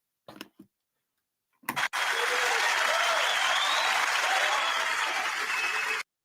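Audience applauding and cheering at a sermon by John Hagee about war between Iran and Israel; after a few brief sounds, a loud, dense, steady wall of clapping and cheers fills the room for about four seconds, then cuts off abruptly.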